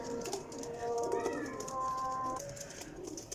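Breeding pigeons cooing close by in a loft, soft rolling coos that repeat across the whole stretch over a quiet background hum.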